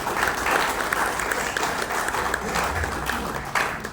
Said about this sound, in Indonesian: Tepuk tangan buat kita bersama.